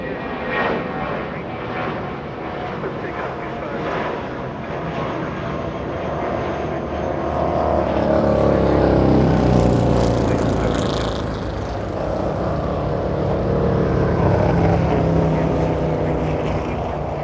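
A JetBlue airliner bound for San Francisco passes at Los Angeles International Airport, a steady jet engine rumble that swells louder past the midpoint and lingers, with light talk underneath.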